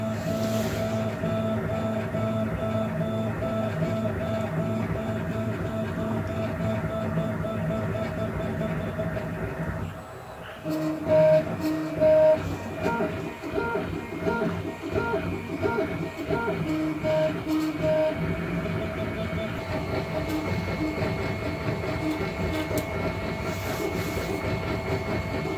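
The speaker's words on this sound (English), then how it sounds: "So this is printing at 100 millimeters per second without the TL smoothers" A 3D printer running at 100 mm/s without TL smoothers fills the air with a loud, steady rhythmic whine and buzzing stepper-motor tones, with chattering, clattering movements that shift in pattern midway through.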